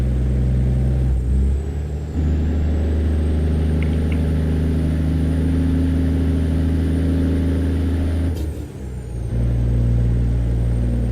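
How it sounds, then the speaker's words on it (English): A heavy truck in the American Truck Simulator game cruises at steady speed, its deep engine drone and low rumble continuous and close, with a brief dip and air-brake hiss partway through and no voices. "I do like the sound of this truck."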